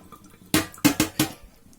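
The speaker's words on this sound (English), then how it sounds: "You can probably hear a few dripping." Water drips and splashes from freshly rinsed white rice draining after a quick rinse under the tap, four distinct close splashy bursts at a steady pace with quiet pauses between.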